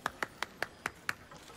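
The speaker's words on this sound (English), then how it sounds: "Adoring applause?" A lone pair of hands claps six times in a quick, slightly uneven rhythm, faint and close, with a soft trailing tap at the end.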